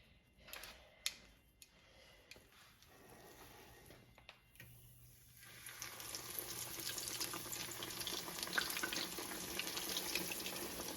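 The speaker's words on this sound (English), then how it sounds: "we're gonna put the chicken in, and you always lay it away from you so that if it does splatter" Chicken pieces laid into a skillet of 350-degree oil for fried chicken sandwiches: after a few soft clatters, a steady bubbling sizzle rises and holds, close and moderately loud.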